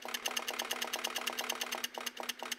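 Homemade dot matrix printer printing in black at high resolution, giving a rapid, steady train of sharp mechanical buzzing pulses over a constant hum, close and alone with no voices.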